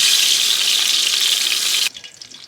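Ahi tuna fries in a hot pan with a loud, steady hiss and sizzle that cuts off abruptly near the end, leaving a quieter background.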